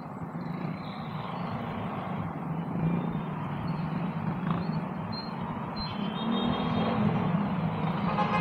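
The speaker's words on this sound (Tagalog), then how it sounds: "grabe yung traffic, sobra." Heavy road traffic in Pasig, a continuous broad rumble of car and truck engines that swells slightly toward the end, with no talking.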